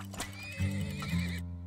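A horse in a video game whinnies, a short loud neigh with rising and falling pitch that cuts off abruptly, heard close and alone.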